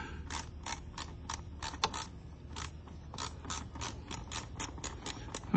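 Ratchet wrench loosening hose clamps on a 2009 Range Rover Supercharged during alternator replacement, a rapid series of about fifteen crisp clicking bursts in quick steady strokes with brief pauses, close and clear over a low hum.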